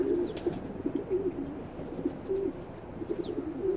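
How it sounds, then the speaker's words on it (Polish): Low, throaty cooing of a racing pigeon repeats in soft rhythmic phrases close by, with a few faint chirps and rustles in the background. "Piękny, silny gołąb."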